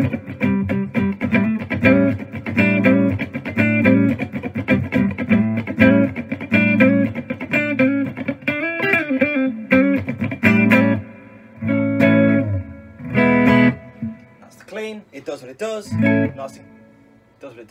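An electric guitar plays clean chords and single notes through a solid-state Marshall amp with light reverb, loud and close, ringing out with decaying sustain and brief pauses between phrases.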